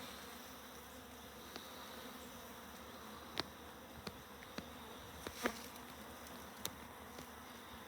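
Bees buzz around a beehive in a soft, continuous hum, with a few sharp clicks and brief louder passes close by, and no one talking.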